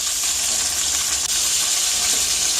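Chicken sears in a hot frying pan, a steady bright sizzle and hiss that holds evenly without pause, close and moderately loud, with no talking.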